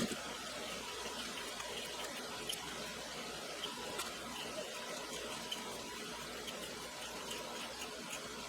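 Water runs steadily from a tap to rinse potatoes, a continuous broad hiss with faint splashing that holds at an even, moderate level throughout.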